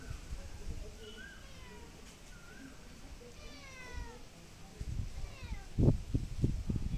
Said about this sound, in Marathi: मणिमाऊ आंब्याच्या झाडावर बसली आहे ती।